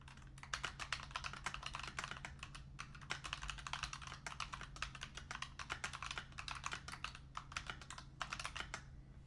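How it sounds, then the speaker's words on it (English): Rapid continuous typing on a Keychron Q7 keyboard with optical mechanical linear switches, dense crisp key clacks in an uneven quick rhythm, close and clear with a faint steady hum beneath and no voices. "This is what a optical, mechanical, linear switches sound like."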